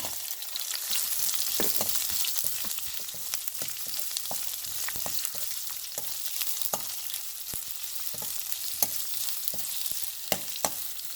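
Onion frying in oil with tamarind in a pan, a steady close crackling sizzle dotted with sharp pops and spatters throughout, no voices.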